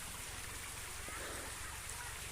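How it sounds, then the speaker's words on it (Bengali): Steady broadband rushing of a waterfall flowing on Seuati hill, a continuous soft wash of falling water heard from a moderate distance with no voices. "দেখতে পাচ্ছেন একটা ঝর্ণার আওয়াজ আপনারা শুনতে পাচ্ছেন।"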